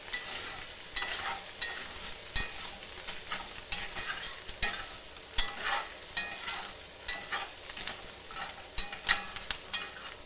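Sausage grease renders and sizzles in a cast iron skillet, a steady close frying crackle with stirring scrapes and occasional sharper pops throughout.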